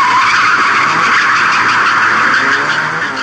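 Tyres screech in a loud, sustained skid as cars drift at high speed up a steep, narrow road, the squeal continuous and close with engine noise beneath and no talk.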